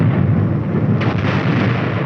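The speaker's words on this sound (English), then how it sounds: "The air bursts fired by a battalion of 105mm howitzers present a lively show." Air bursts from a battalion of 105mm howitzers: a continuous, heavy, rolling rumble with a sharper crack of a burst about midway, loud and with no voices.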